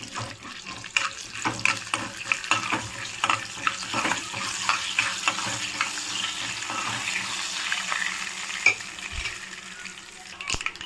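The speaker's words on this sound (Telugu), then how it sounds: "కొంచెం ఆవాలు, మినప్పప్పు, పచ్చెనగపప్పు అండ్ జీలకర్ర అండ్ పొట్టు మినప్పప్పు వేసుకుందాము" Mustard seeds, split black gram, chana dal and cumin crackle and fry in hot oil for a bottle gourd chutney tempering, giving a steady sizzle with scattered sharp pops and faint stirring, no talk.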